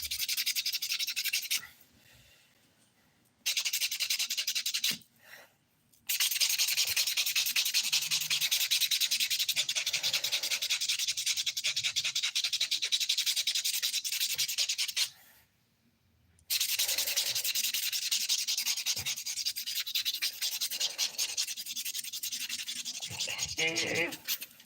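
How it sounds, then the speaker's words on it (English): Fingernails are rubbed with a buffer in long steady strokes, a close, bright scratchy hiss that runs almost continuously with a few short pauses. "I've already smoothed out most of these nails, they don't really need much buffing"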